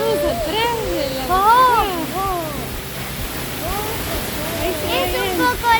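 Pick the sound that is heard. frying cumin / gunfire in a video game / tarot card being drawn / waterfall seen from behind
waterfall seen from behind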